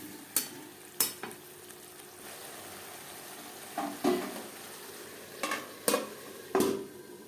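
Carrots and cauliflower fried in spice masala, a faint low sizzle with intermittent spoon scrapes and taps against the pan as the vegetables are stirred, quiet and close.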